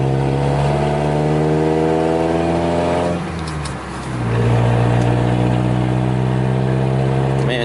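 A car engine sounds loud and close while driving, holding a steady drone before a short drop in revs. The engine then settles at a lower, heavier note.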